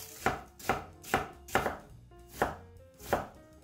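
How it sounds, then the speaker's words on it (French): An onion being chopped into small cubes on a cutting board, eight crisp evenly paced knife strikes, close and clear with no voices. "on va le couper en petits cubes"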